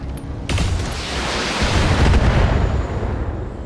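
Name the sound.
ammo explosion in video game BattleTech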